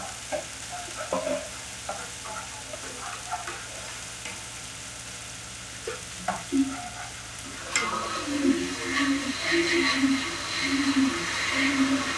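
Chopped onion frying in hot cooking oil, with scattered stirring scrapes at first, then a louder, busier sizzle in the last few seconds, heard close up.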